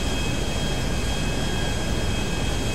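An airplane flying in Grand Theft Auto V gives a loud, steady broadband engine roar with a thin high whine running through it, continuous and close, with no talk.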